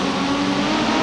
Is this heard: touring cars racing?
yes